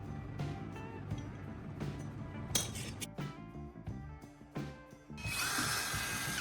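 A power drill whirs in short bursts, drilling small holes into PVC pipe, with small clinks and handling noises between, ending in a longer sustained drilling run, close up.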